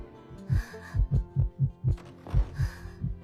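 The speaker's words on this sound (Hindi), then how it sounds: "उसका दिल बेचैनी से धड़क रहा था।" A tense, quickened heartbeat pounds in steady paired thumps, deep and close, with no other sound around it.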